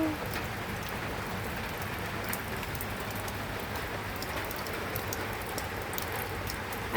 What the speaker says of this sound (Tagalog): manood muna tayo ng ulan for a while